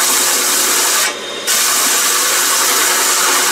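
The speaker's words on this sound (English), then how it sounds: "we're really turning fast there. And it stalled the drill there momentarily." A drill fitted with a hole saw cuts into sheet metal in a loud, dense, continuous grinding whir, briefly bogging down and stalling for a moment before spinning back up to full noise.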